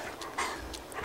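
A dog in The Walking Dead video game whimpers and pants in a few short, faint breathy bursts, heard alone.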